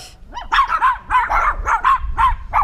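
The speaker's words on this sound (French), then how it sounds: "Les gros chiens de garde." Big guard dogs bark repeatedly and loudly, close by, in a fast run of deep woofs with a few yelps mixed in, in Monteverde.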